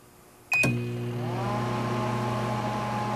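A 1988 Sharp microwave oven starts with a sharp click and then runs with a steady, loud electrical hum that continues to the end, with no talking.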